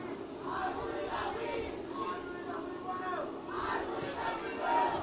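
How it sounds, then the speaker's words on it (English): A student section cheers and chants at a girls soccer game, a rhythmic crowd roar heard at a distance with swelling waves of voices. "The student section's got the cheering going."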